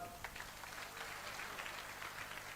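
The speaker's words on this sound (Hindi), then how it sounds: "आप एक बार अपने लिए तालियां बजा दो" A crowd at a party workers' rally in Fatehabad gives a dense, continuous wash of applause, heard faint and distant with no distinct individual claps.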